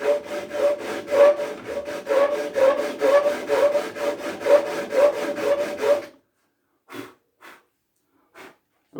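A wooden rocking chair part is hand sanded with steady back-and-forth rasping strokes for about six seconds. A few soft sniffs and small handling noises follow in near silence.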